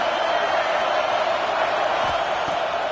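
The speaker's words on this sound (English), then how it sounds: "Listen to this crowd." A dense, roaring stadium crowd at an American football game, a continuous wash of cheering and shouting at steady high volume with no single voice standing out.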